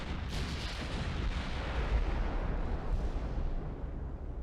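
Naval guns boom in the warship battle game Ultimate Admiral: Dreadnoughts, a loud, heavy salvo blast that rolls on into a rumbling tail with no voices.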